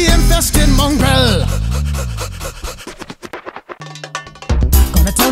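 A Vizsla dog pants heavily and rapidly close by, with quick breathy rhythmic huffs and a few snorts that fade, then pick up again near the end.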